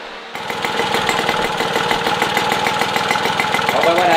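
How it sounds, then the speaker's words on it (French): A small engine, just refitted with a new carburetor, starts up and runs steadily at a rough, even idle with a constant pulsing chug, close and loud throughout. "remettre donc un nouveau carburateur sur ce moteur, et puis faire un dernier essai bien sûr pour voir si tout est nominal"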